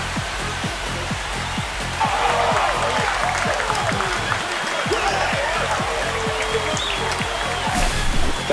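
A home ballpark crowd roars in MLB The Show 25, a loud dense wash of cheering and applause that swells after a couple of seconds and holds, with a low steady rumble beneath.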